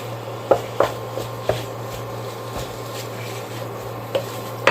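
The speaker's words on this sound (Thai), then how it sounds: "ก็ได้เวลาใส่หมูกดลงไปนะครับ อะไรอย่นี ผัดเข้ากันเลยนะครับ ผัดหมูเข้ากับ" Minced pork stir-fried with curry paste in a pan for Southern Thai kua kling, with scattered utensil scrapes and clinks over a steady low hum, about six distinct knocks spread across the stretch.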